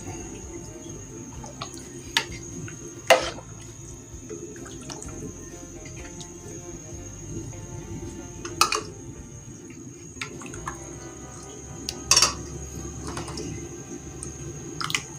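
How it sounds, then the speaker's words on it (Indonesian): A spoon stirs seasoning into bakso broth in a pot, with soft liquid sloshing and a few sharp clinks of metal against the pot at irregular intervals, close up. "Sekarang kita aduk-aduk."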